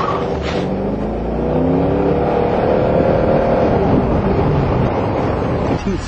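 A Corvette's engine revs hard as the car takes off down a street, a loud, sustained roar that climbs in pitch with wind rushing over the microphone and no talking.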